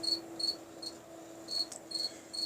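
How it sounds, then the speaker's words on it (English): A live cricket chirping indoors in a quiet room, repeating short high chirps at a steady rhythm, faint but clear over a low steady hum, with no speech. "there's actually a live cricket chirping during my video"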